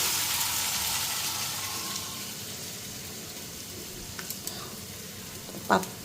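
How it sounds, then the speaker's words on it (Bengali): Malabar spinach leaf fritters fry in hot oil with a steady, close hiss of sizzling that eases slightly over time, with a few sharp crackles and pops near the end and no voices. "তো এদিকে এখন পুঁই পাতাগুলি বড়া ভাজা বসায় আনি।"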